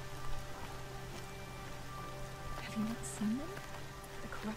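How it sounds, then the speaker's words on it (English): Steady rain patters over a low humming background in the video game Horizon Zero Dawn, with a few faint vocal sounds scattered through. "And it's raining."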